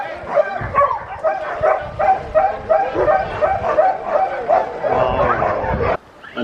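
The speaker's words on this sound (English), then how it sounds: "the dogs have been super quiet when we got here, but now they know it's time to run and they're so excited" Excited sled dogs in Denali National Park barking, yipping and whining in a continuous overlapping chorus close by, eager before a run, with a short gap near the end.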